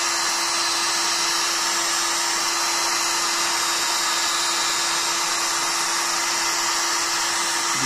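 A heat gun blows steadily and loudly at close range while heating plastic for a DIY phone holder in an XJ, its airy roar and constant whine running unbroken throughout.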